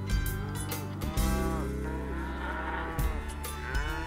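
Cattle mooing repeatedly during a Utah cattle drive, several loud, drawn-out lowing calls from nearby animals, one after another over a constant outdoor background.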